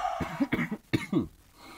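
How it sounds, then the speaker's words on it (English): A few harsh, raspy coughs in quick succession, close to the listener, then quiet breathing. "Don't like this cough."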